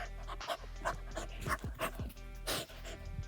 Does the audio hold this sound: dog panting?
yes